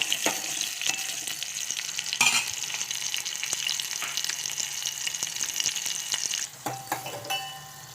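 Green chillies frying in a pan, a steady dense sizzle with crackling pops throughout, a brief louder burst near the start and a softer stir toward the end, no talking.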